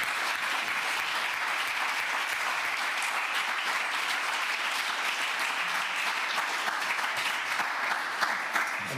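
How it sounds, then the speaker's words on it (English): Steady, dense applause from a conference audience for panel speakers at a plenary session, a continuous even wash of many hands clapping that holds at full strength throughout. "I think everybody a round of applause,"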